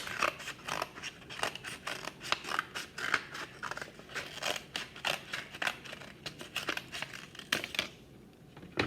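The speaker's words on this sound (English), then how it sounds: "we cut out the center of our paper plate" Scissors snip steadily through a paper plate in quick, close repeated cuts, crisp and rhythmic, with no one speaking.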